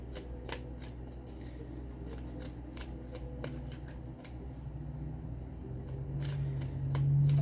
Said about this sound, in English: I'm going to pull out some of these ancestor cards, just to see if we can expound upon this